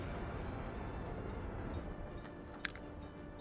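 Trains rolling along the rail lines in the city-building game Workers and Resources, a steady low rumble with a faint high squeal and one brief click near the end.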